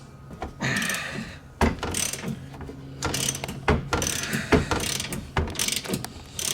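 A ratchet works loose the nuts on a Honda Pioneer 700-4 front shock, giving bursts of quick clicking strokes with short pauses and metallic knocks between them, close and fairly loud.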